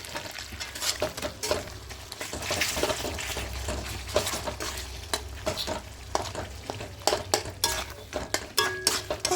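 Tomato chicken is stirred around a pan without onion, a spoon scraping through the sizzling mixture in steady, uneven strokes, with occasional clinks of utensil against the pan close by.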